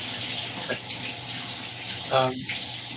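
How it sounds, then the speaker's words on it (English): Water from a running shower hisses as a steady, broadband wash throughout, with faint indistinct voices briefly breaking through underneath. "You can hear a shower coming through, I think, or something."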